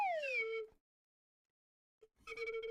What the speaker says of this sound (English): I swear that slide whistle was always going to catch me off guard.